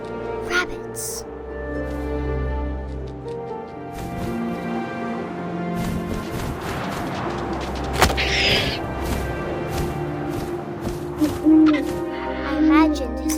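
An owl hoots in the video game What Remains of Edith Finch, set against a steady wind-like ambient drone with scattered soft knocks and rustles, the hoots mid-distance and fairly clear.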